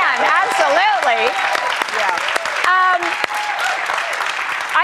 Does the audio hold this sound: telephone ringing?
no